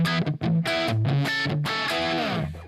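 An electric guitar plays through an Empire distortion pedal, sounding out a short run of sustained, saturated notes and chords that are loud and close, with no talking.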